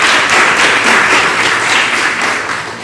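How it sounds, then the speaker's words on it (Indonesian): Applause fills the hall at an MOU signing ceremony during a Ramadan live talk show, a dense, loud wash of clapping that holds steady before easing slightly at the end. "Beri tepuk tangan dan beri."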